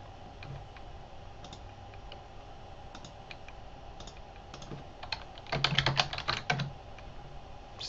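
Password being typed on a computer keyboard: sparse, light key clicks at first, then a quicker cluster of louder taps near the end over a faint background hum.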